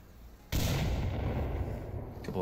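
A grenade blast in the VR shooter Onward, a sudden loud boom with a rumbling tail that fades over a couple of seconds, following a quieter moment.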